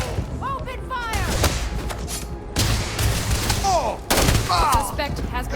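Gunfire in a firefight in the video game Starfield, repeated loud bursts of shots and impacts in quick clusters, with voices shouting over the shooting.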